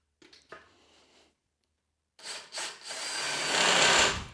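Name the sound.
power drill drilling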